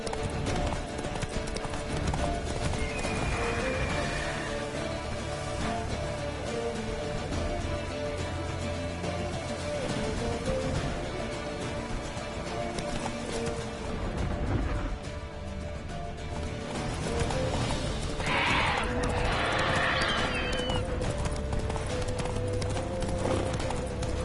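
Video-game horse Roach gallops with steady clip-clop hoofbeats under a dense soundscape, with a brief neigh-like burst near the end; continuous and fairly loud throughout.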